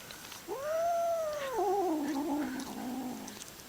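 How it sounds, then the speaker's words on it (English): A kitten gives a drawn-out growling yowl, rising then wavering and trailing off over a few seconds, close and fairly quiet with no talking. "Fierce cat."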